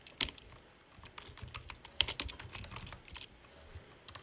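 Someone types on a computer keyboard in bursts of quick, fairly faint clicks and key taps, close up, with short pauses between runs and no one talking.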